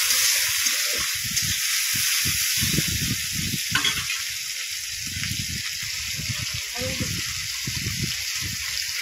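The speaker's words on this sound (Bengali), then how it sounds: "এবার চিংড়ি মাছগুলো আমি কড়ার মধ্যে দিয়ে দিলাম" Shrimp, rubbed with salt and turmeric, frying in a wok: a constant hissing sizzle runs throughout beneath intermittent speech.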